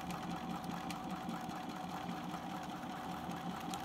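A sewing machine runs steadily while stitching a hat brim toile, a continuous close, rapid mechanical chatter with a faint rhythmic knock throughout and no pauses.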